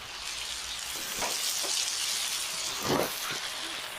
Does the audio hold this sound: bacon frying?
yes